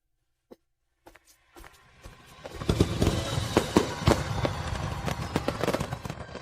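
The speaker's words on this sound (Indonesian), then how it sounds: "Tadi itu kembang api." A few isolated pops give way to a dense barrage of fireworks bangs and crackles, many overlapping blasts echoing at a moderate distance.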